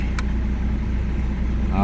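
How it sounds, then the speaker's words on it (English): A car engine idles with a steady, low, even hum, close by and fairly loud, and a brief click comes near the end. "that engine sounds quite tidy"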